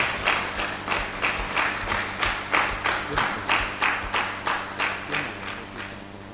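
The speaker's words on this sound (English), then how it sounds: "I think they deserve a louder applause" Slow, rhythmic group clapping from an audience at an alumni reunion general meeting, fairly faint, with steady evenly spaced beats and no talk over it.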